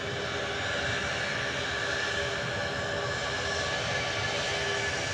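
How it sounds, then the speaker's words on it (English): An Airbus A321 airliner passes at DFW airport with a constant, broad jet roar that holds steady and loud for the whole stretch. "No, that was an Airbus A321, sorry."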